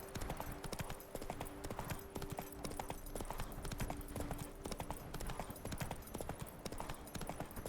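Roach the horse's hooves clip-clop in a steady quick rhythm in The Witcher 3: Wild Hunt Blood and Wine, fairly faint, running throughout with an even gait.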